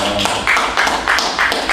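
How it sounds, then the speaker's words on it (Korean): Brief bursts of clapping from a church congregation during a service, coming in short uneven waves, fairly loud and close, with no talking. "승리를 누리신 예수님께 박수를 한번 보내드리겠습니다."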